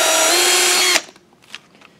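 Power drill boring a 1/8 inch pilot hole, a loud close whine lasting about a second that cuts off sharply, followed by faint clicks and handling noises.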